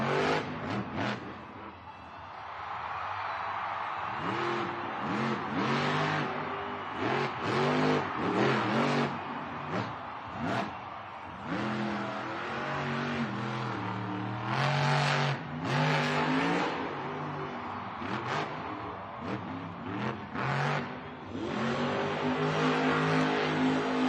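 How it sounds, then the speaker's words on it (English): The Gravedigger monster truck's engine roars and revs repeatedly during a Monster Jam stadium event in El Paso, a loud, close engine sound with rising and falling throttle sweeps and brief lulls between bursts. "You hear the engine running."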